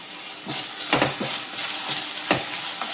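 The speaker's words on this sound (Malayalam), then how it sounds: "നമുക്ക് വേറൊരു പാനിലേക്ക് ഈ സബോളയും ഉള്ളി ഒന്ന് വഴത്തിയെടുക്കാം." Onions and shallots sautéing in a pan, a bright continuous sizzle with several quick spatula scrapes and stirs breaking through, close and steady with no talking.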